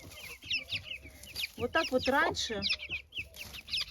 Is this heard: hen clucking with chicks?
yes